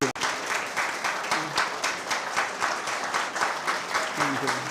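Audience applause after a leadership lecture by a managing director, a steady, fairly loud wash of many hands clapping throughout, with faint voices murmuring underneath near the start and end.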